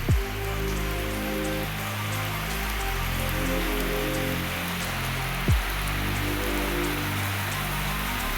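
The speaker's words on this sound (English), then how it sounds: "Rain is disturbing, guys." Rain falls steadily on surfaces in a village, a dense even hiss of drops mixed with a droning hum and two sharp knocks.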